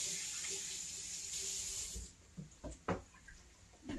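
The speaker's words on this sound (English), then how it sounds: "Let me rinse my hands off." Hands rinsed under a running kitchen tap, a steady hiss of flowing water for about two seconds that cuts off, followed by a few soft knocks and clatters.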